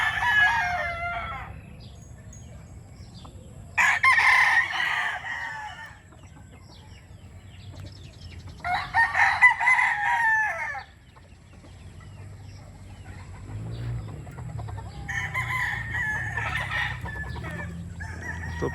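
A Sweater gamecock crows in three or four separate bursts, with soft clucking between them over a steady low background hum.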